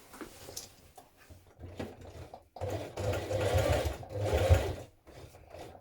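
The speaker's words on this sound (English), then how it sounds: "So I've top stitched down my waistband now." A sewing machine top-stitching the waistband of resized jeans hums in a short burst, then runs in a longer, louder whirring stretch with mechanical rattling, close by.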